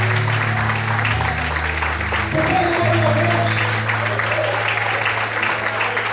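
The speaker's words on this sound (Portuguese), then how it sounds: "aplauda o Senhor nessa noite" A church congregation claps during an evening sermon, broad steady applause over a sustained low organ or keyboard drone, with a preacher's voice speaking over it.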